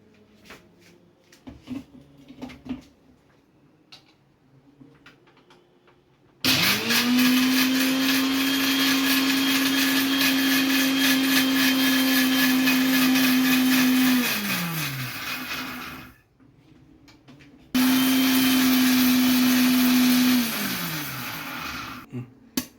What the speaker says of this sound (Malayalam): ഉണക്കച്ചെമ്മീൻ തണുത്ത ശേഷം ആദ്യം ഉണക്കച്ചെമ്മീൻ പൊടിച്ചെടുക്കണം.